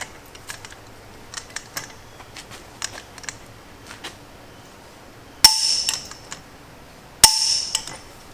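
Milwaukee M12 stubby 1/2-inch impact wrench in a torque test: soft scattered ticks and taps, then two short, loud hammering bursts a couple of seconds apart, close by.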